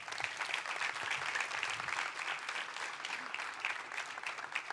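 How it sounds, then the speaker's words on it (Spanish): Church congregation applauding during a youth service sermon, a dense, steady wash of clapping from many people, moderately distant and continuous throughout. "Yo creo que esta iglesia se merece un aplauso, ¿sí o no?"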